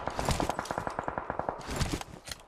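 Rapid bursts of automatic gunfire in PUBG Mobile, loud and close, firing in a fast regular rhythm for about a second and a half, then a pause and a few more shots.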